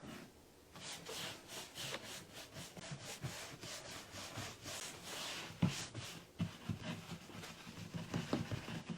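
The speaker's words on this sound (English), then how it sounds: "In those nooks and crannies, I just scrub, kind of get it on there" A brush scrubs milk paint into the nooks of a mirror frame, a close, rhythmic back-and-forth bristle scratching that continues steadily with no voices.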